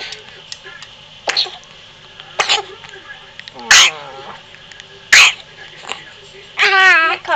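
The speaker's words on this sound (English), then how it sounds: "Not coughing nearly as bad" A small child in hospital coughs in about five short, rasping bursts spaced a second or so apart, some with a slight voiced edge, close by.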